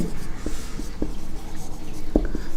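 A pen or pencil writes by hand on paper during a higher mathematics solid geometry lesson, with soft scratchy strokes and a few sharper taps, faint against a quiet room.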